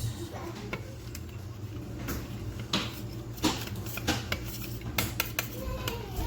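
A utensil stirs a yeast mixture in a bowl for rosemary focaccia dough, metal clinking and tapping in an irregular rhythm against the bowl, close and moderately loud.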